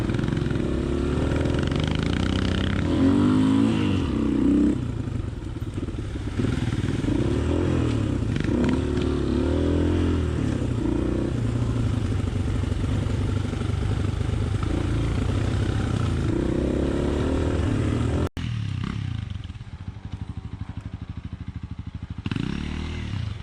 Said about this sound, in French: Midan a réussi à passer sans descendre de la moto.